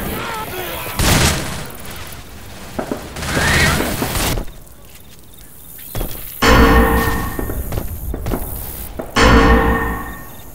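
Bursts of gunfire in Left 4 Dead 2, loud overlapping volleys coming in several clusters across the span, with heavy booming impacts mixed into the shooting.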